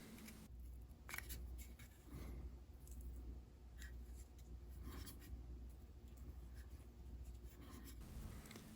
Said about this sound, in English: So I'll just run my X-Acto knife around the top layer, which isn't even glued down, and cut through the stitching and remove the layer.